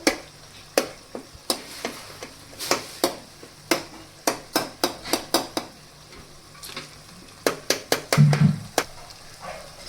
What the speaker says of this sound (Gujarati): જે લસણની ચટણી છે તેને થોડી વાર માટે આપણે તેલમાં આ રીતે ચડવા દેશું